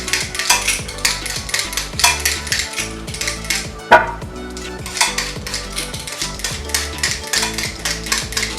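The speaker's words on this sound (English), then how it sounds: "We're going to start by peeling and chopping our potatoes and carrots." Potatoes and carrots are peeled and chopped on a board, a busy run of close rhythmic knife taps and scraping strokes with one sharper knock partway through.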